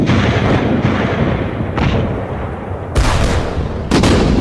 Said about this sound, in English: 340 guns began the heaviest bombardment the British Army had ever seen